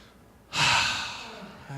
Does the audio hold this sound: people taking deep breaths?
yes